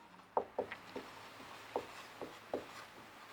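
Chalk or marker writing on a classroom board, with a series of soft taps and short strokes at an irregular pace, faint and close, with no speech heard.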